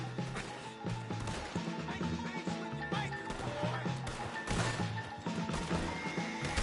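Horses neighing and whinnying in a video game, loud and near over clip-clopping hooves, crashes and a dense game soundtrack.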